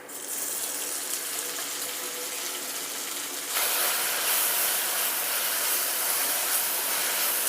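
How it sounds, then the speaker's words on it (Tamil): Tomatoes added to a frying pan after onions, giving a steady hissing sizzle that turns louder and brighter partway through, continuing close and unbroken with no voices. "நம்ம தக்காளியை போட்டு வதக்கிடுவோமா"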